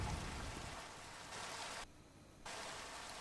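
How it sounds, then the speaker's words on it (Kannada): Steady, close rain hiss from Minecraft gameplay, falling continuously and briefly dropping to a quieter patch before returning at full strength. "ಕ್ರೇಜಿ ರೈನ್ ಡ್ರಾಪ್ಲೆಟ್ಸ್ ನೋಡು ಗುರು"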